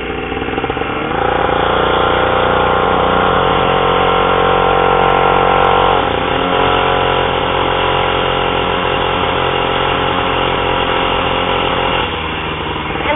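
Supermoto motorcycle engine running close to the microphone, a loud, steady mid-pitched drone that holds level throughout with slight shifts in tone and no voices.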